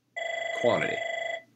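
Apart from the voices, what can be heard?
telephone ringing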